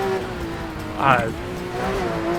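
A race car engine in the video game Midnight Racing: Tokyo drones steadily with a brief rising rev and tire noise in the middle, while a voice talks over it.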